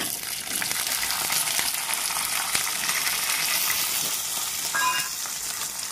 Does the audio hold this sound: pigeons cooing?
no